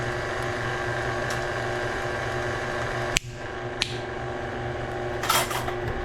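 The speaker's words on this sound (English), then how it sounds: "I just took a spoon, cracked the shell, and here it is, that wonderful nutmeg that we're going to grate." A spoon cracks the shell of a fresh Grenada nutmeg in a kitchen, one sharp close snap followed by a softer click and some light rattling of shell pieces.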